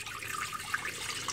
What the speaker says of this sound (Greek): Έχω βάλει μία κατσαρόλα, θα βάλω το νεράκι μου